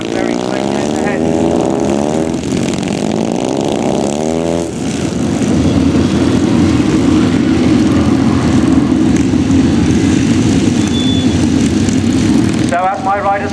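White Helmets display team motorcycles crisscross an arena at the Great Dorset Steam Fair, their engines droning loudly and continuously with shifting pitch, while an announcer talks over the sound at first.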